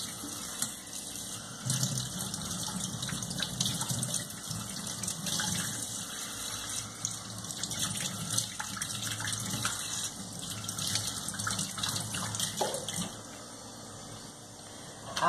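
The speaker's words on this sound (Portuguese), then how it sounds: "iremos pegar as 4 cascas de banana, lavar em água corrente" Four banana peels are rinsed under a running kitchen tap, water gushing and splashing steadily close by, with small shifts in flow as the peels are handled, then easing off near the end.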